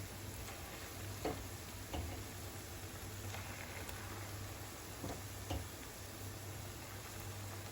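Buckwheat flour pakoras for fasting frying in oil in a small kadhai, a faint, steady sizzle with a few soft ticking pops scattered through it.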